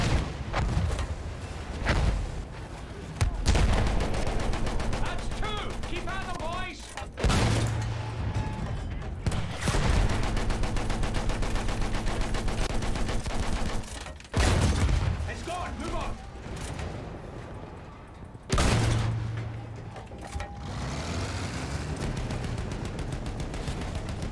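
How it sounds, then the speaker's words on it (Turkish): Rocket explosions and gunfire in the video game Battlefield 1, loud sustained booms and crackling bursts that swell and cut off every few seconds, with a player talking over them. "Rocketlerin patlaması çok iyi."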